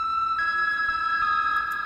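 A sustained, bell-like synth tone rings steadily with a soft reverberant tail, a brighter upper layer entering partway through; no voices.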